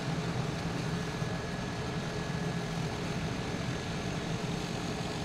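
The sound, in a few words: Lear Fan 2100 propeller aircraft taxiing in Microsoft Flight Simulator video game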